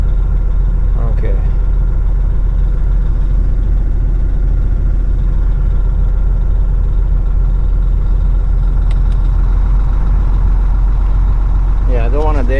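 Heavy haul truck engine idling in cold winter weather, a loud steady low rumble that continues throughout, with a few faint higher squeaks and creaks over the drone.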